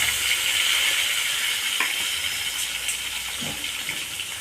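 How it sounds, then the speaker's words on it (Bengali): Fish fry in mustard oil in a wok, producing a continuous loud hiss and sizzle that holds steady throughout with a couple of faint clicks. "এবার আমি মাছগুলোকে ভেজে নেব।"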